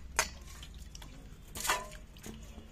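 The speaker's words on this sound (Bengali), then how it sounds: "এবার আমি শিলনোড়াটা ধুয়ে নেব" Water splashes and drips while a stone grinding slab and pestle (shil-nora) is rinsed in a kitchen, a few quiet separate splashes with a louder one near the middle.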